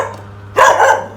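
A single loud bark from a nearby dog cuts in suddenly over a steady low hum in the background.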